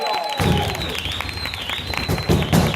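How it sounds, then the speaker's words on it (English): An audience applauds dancers at a cultural performance in Lesedi, clapping breaking out after a brief pause and continuing unevenly under a voice over a loudspeaker. "One more time for the dancers, please give us a round of applause."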